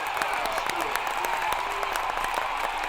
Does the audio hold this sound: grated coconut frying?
no